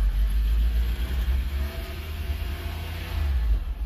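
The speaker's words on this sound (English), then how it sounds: "First gear, rev it up a little bit." Fiat X1/9 engine idling and revving briefly in first gear after clutch hydraulics work, a close, deep rumbling drone rising and falling slightly over a few seconds.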